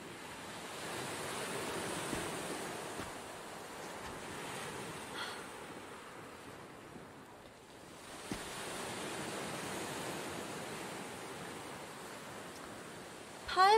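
Sea waves wash onto the shore in a continuous, moderately loud roar that swells and eases, with a dip partway through and some wind noise on the microphone.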